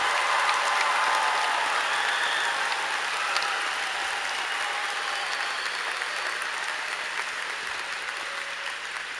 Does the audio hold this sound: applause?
yes